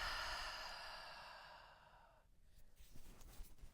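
A long, slow exhale through the mouth during a belly breathing exercise, a soft breathy whoosh that fades over a couple of seconds, then quiet rustling and breath noise, close to the microphone and alone.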